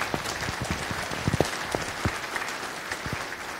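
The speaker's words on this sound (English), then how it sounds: "Warm applause for our speakers" An audience claps after a conference talk, a short burst of scattered, moderate applause from a small crowd that thins out toward the end.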